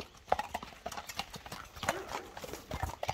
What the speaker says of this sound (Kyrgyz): Мына достор, аттын басышын карап коюңуздар